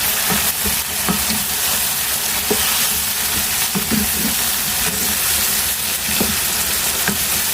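Chopped eggplant frying in spicy masala in a pan for aloo baingan sabzi crackles and sizzles loudly and close, with repeated stirring scrapes and knocks throughout and no talking.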